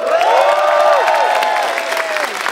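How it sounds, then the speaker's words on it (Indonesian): A studio audience at an Indonesian talk show claps loudly, with rising whoops and cheers carried over the applause before it tapers slightly. "dan tepuk tangan juga buat Indonesia yang sudah mengumpulkan sementara emas terbanyak."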